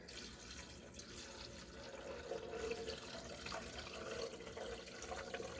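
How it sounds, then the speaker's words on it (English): Tap water runs steadily into a container for making almond milk, a continuous broadband rush with no speech over it. "I'm going to add 4 cups of water."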